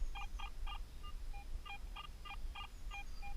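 A series of short electronic beeping tones from a metal detector over a piece of lead in a forest, irregular bursts, some pitched higher, some lower, fairly quiet over a low background hum.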